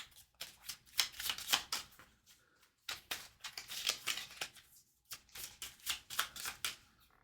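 Cards for the Pathfinder card game are shuffled in three quick bursts of riffling and flicking, each separated by a short pause, crisp and close by.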